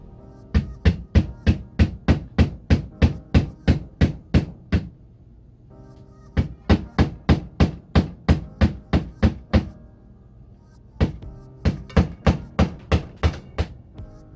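Repeated hammering with an improvised tool, probably driving screws or fixings to hang something on a wall indoors: three sharp, close, loud bursts of about a dozen evenly spaced blows each, separated by short pauses.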